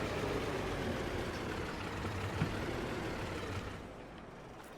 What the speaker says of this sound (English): What a cool little tractor.